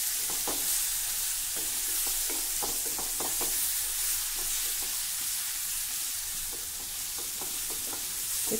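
Red chili and coriander powder sautéing in hot oil produce a loud, continuous hiss of frying with rhythmic stirring knocks of a spoon against the pan, steady and close.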